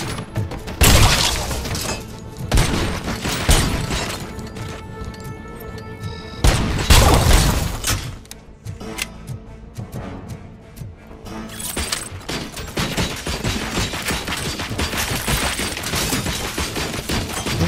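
RoboCop: Rogue City combat: loud bursts of gunfire mixed with shattering and heavy booms, with dense volleys early, a lull, then renewed impacts and rattling debris, and no speech.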